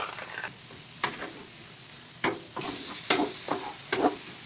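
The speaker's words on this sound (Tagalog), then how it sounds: "Lagyan natin ng salt para mabilis malamog ang kamatis sa pagkakagisa." Tomatoes sauté with salt in oil, giving a steady close sizzle and hiss. Several sharp stirring scrapes and knocks against the pan break in along the way.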